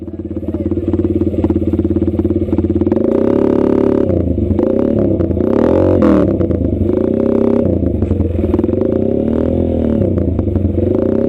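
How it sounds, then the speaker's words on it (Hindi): Off-road motocross bikes ride together on a Sunday outing, their engines droning loud and steady throughout with revving swells and clattering surges. "ये प्रॉपर ऑफ रोडिंग बाइक्स हैं, आपको पीछे में दिख रही होंगी।"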